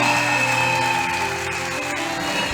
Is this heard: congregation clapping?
yes